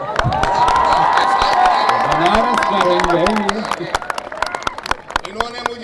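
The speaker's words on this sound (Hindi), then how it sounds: "ये ताली थोड़ी कमजोर है।" An audience at a poetry recital in Banaras claps and cheers, loud and dense at first, then thinning into scattered claps toward the end, with voices mixed in.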